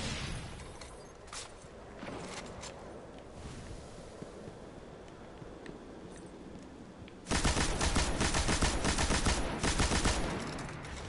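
Gunfire in the shooter game Destiny, Crucible Rumble mode: a dense, loud burst of rapid shots erupts partway through after a stretch of softer game noise and scattered shots, with no talking.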